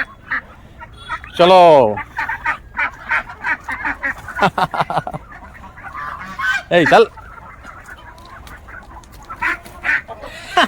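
Evening poultry noise as chickens file into their shed: loud, honking squawks and clucks in bursts over several seconds, with a man calling briefly between them.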